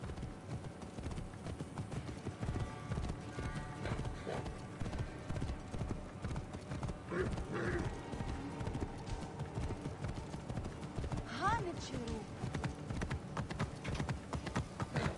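Horse hooves clip-clopping in the game Assassin's Creed Origins on PS5, a steady rhythmic trot close by, with faint game sounds and a brief whinny-like tone layered over it.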